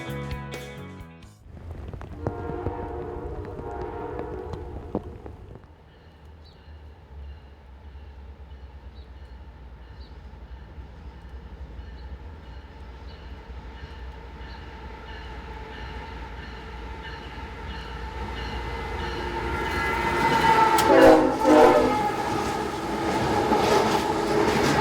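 A freight train led by four ES44AH locomotives rumbles past at a Virginia junction, a steady loud roll of railcars, with a strong horn-like tonal blast rising near the end over the passing wagons.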